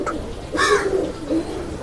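Pigeons of a fancy feather-patterned breed coo softly nearby, a few low throaty calls rising and fading with a short pause between.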